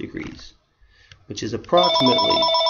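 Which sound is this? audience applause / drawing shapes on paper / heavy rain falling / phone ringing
phone ringing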